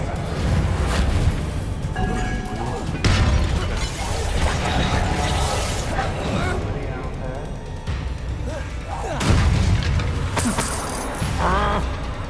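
Magical spell blasts and crashing debris in the Hogwarts Legacy video game, an Expulso explosion among booms, clattering mechanisms and breaking objects, loud and repeated, with voices talking over the action.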